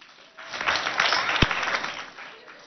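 An audience at a school quiz competition claps in a short, steady burst of applause that is fairly loud and fills the room, with a single sharp click partway through.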